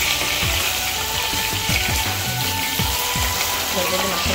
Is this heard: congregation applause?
no